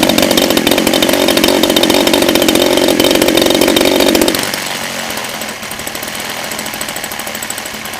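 DLE 30cc gas engine warming up on a test stand, a loud steady buzzing drone that drops to a quieter, smoother idle partway through.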